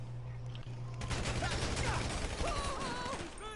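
Tommy gun fired in a video game: a sustained rapid burst of automatic gunfire, dense and continuous for a few seconds, fairly faint in the mix with background game noise.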